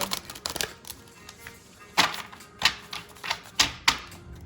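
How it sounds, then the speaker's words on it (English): Tarot cards being shuffled up close: a flurry of quick riffling clicks, then several separate crisp snaps and slaps at irregular intervals. "I'm gonna do a quick little shuffle here."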